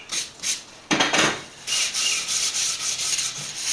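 Sandpaper rubbed by hand along the edges of a scrap-lumber wooden picture frame, giving dry, raspy scratching strokes in short bursts, then steadier back-and-forth rubbing, close and fairly loud with no talking.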